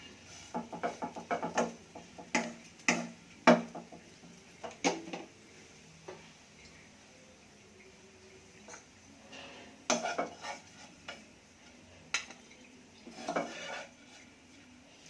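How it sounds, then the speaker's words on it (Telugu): Cooked chikkudu kayi palyam is scraped and spooned from the pan into a serving bowl after the stove is switched off, giving intermittent metallic clinks and scrapes of a spoon on cookware, close and fairly quiet, with no talking. "ఇప్పుడు స్టవ్ కట్టేసి సర్వింగ్ బౌల్లోకి తీసుకుందాం."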